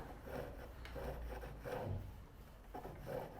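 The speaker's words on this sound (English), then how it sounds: "And I've got the chisel almost vertical." A chisel cuts wood on a lathe while chair legs are turned, giving a faint rhythmic rasping scrape that repeats roughly every second over a low motor hum.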